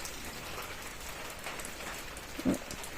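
Rain falling steadily outdoors near a house veranda, a continuous soft hiss of drops with a brief louder spatter near the end.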